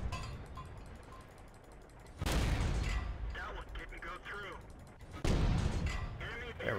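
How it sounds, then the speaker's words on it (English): In World of Tanks, a tank's machine gun cannon fires two loud booming bursts about three seconds apart over busy battle noise, while someone talks throughout. "Use this machine gun cannon on him."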